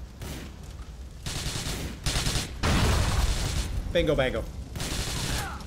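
Gunfire in Grand Theft Auto 4: several bursts of rapid automatic shooting in separate blocks, loud and close, with someone talking between and over the shots.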